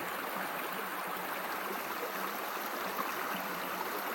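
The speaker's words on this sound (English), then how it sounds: "What a cool stream coming down the mountains." A clear mountain stream, Laurel Fork, rushes beneath a bridge, its steady broadband wash of water constant and fairly close, with no voices over it.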